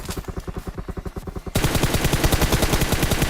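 Automatic gunfire in the mobile battle royale game PUBG BGMI: evenly spaced rapid shots in bursts, then a denser, louder continuous stream after about a second and a half.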